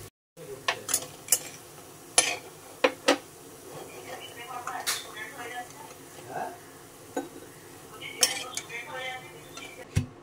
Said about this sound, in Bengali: এটা আমি হামদিস্তা একটু পিষে নিচ্ছি।